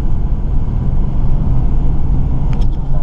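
Steady low rumble of a car engine and road noise while driving, constant and fairly close, with a few faint higher chirps near the end.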